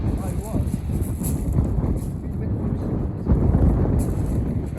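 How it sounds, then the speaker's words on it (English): Gusting westerly wind buffeting a camera microphone on an open shingle beach makes a constant low rumbling roar that swells and eases, with people talking over it. "this gusting westerly wind, which you can probably hear on the camera"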